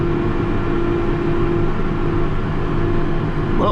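A John Deere 2510H 60-foot high speed applicator works in a farm field, heard as a loud, steady engine drone and low rumble with no breaks.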